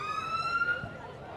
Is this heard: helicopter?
no